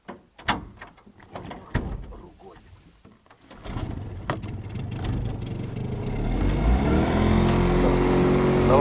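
Outboard motor on a Kazanka aluminium boat coughing to life after a few knocks and handling sounds, then settling into a rising, steady drone; voices are heard briefly early on.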